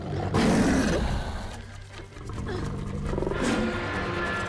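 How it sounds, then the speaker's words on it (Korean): A lion roars loudly in a film scene about a face-off with the big cat: two powerful, rumbling roars close up, the first near the start and the second near the end, separated by a brief quieter gap, with no talk. "나루는 사자와 목숨을 건 대치를 하게 되는데"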